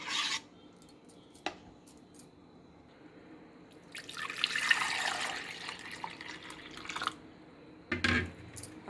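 Homemade pineapple juice, sweetened with sugar, being poured back and forth between two kitchen vessels: a splashing, trickling pour swells for a few seconds, with brief drips and clinks before and after.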